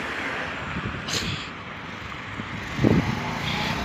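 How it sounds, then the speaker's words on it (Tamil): Traffic on a Bahrain city street, a steady wash of passing cars and engine rumble heard from the roadside, with a couple of louder vehicles sweeping by. "ரோட்டில் வாகனம் போகும் பாருங்கள்."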